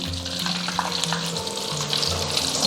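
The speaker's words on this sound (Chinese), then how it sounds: "朋友们可以轻轻用这个漏勺给它翻一下，这样炸出来的鱿鱼它就是表面越来越脆了" Squid rolls deep-fry in hot oil over medium-low heat, a steady close sizzle and crackle running throughout while a slotted spoon gently turns them, with no voices.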